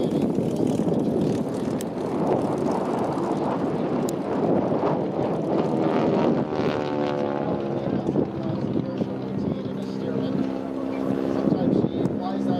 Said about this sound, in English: this is an open cockpit biplane